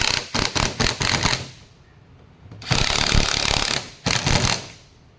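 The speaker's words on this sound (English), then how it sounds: "Now these, I would definitely use a power driver on." A power driver spins self-tapping screws into a large oval deck plate in two loud buzzing bursts, each a rapid rattling whir lasting over a second, with a quiet gap between them and no talk.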